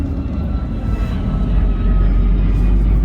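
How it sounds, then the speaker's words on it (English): A low, roaring aircraft engine rumbles overhead as a plane flies low over countryside near Krakow, Poland, loud and steady, swelling slightly as it passes. "Aeroplane absolutely hammering it over the top of us"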